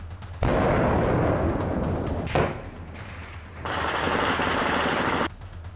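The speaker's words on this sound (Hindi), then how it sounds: "फायरिंग का शोर और धमाकों की आवाजों ने पाकिस्तान से लगी हिंदुस्तान की सीमा पर नींद खराब कर रखी है।" Heavy gunfire and blasts along the India–Pakistan border, a dense loud roar of rapid shots with a sharp bang midway, followed by another sustained burst of fire before it cuts off.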